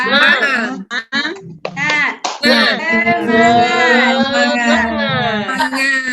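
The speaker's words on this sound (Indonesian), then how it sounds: "Kita sekarang tepuk semangat dulu ya" A classroom does the 'tepuk semangat' rhythmic clapping, short sharp claps in a patterned beat mixed with children and a teacher chanting and talking loudly throughout.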